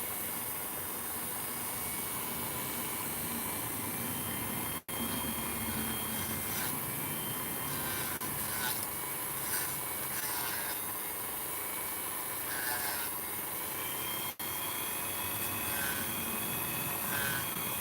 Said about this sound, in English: The change in speed is the line voltage changing. I'm not adjusting the Dremel at all.